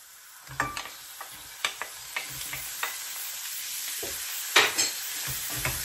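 Pork sizzles in a pan with garlic and onion, a bright continuous hiss broken by repeated close scrapes and clacks of a stirring utensil.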